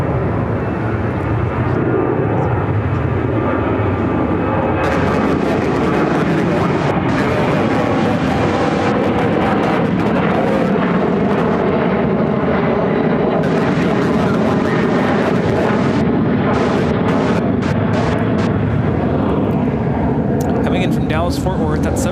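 An aircraft flies low overhead at Chicago O'Hare, a loud sustained roar building and persisting for many seconds with radio chatter and voices heard beneath it.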